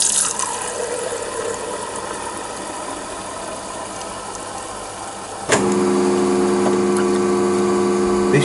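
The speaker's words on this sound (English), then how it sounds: "Pressing the soda button will give a 7-second pour to confirm the flow rate." Soda water pours from an Albi4 carbonated drink dispenser over a constant pump-like hum; the flow surges in suddenly and louder midway, then holds as a steady, close rushing stream with a tonal whine.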